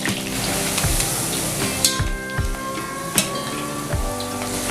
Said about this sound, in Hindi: मीडियम फ्लेम पर इन्हें डीप फ्राई करने से इनका क्रंच बिल्कुल बरकरार रहेगा।